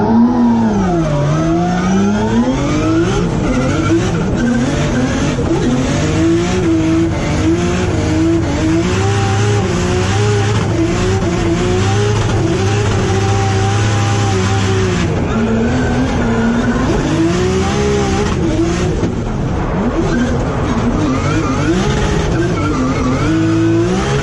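A BMW E92 fitted with a 2JZ six-cylinder engine and merge collector revs hard against the limiter, a loud, sustained, bouncing engine roar close by with rising and falling pitch throughout.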